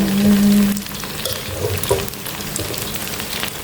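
Thai fritters of crispy pak khan chong vegetable fry in hot oil with a dense, steady crackling sizzle that carries on throughout, fairly loud and close, with no one speaking.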